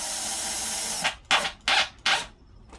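Power drill driving screws into a wood substrate: a steady whir, then three short bursts as the screw is cinched tight, close and fairly loud.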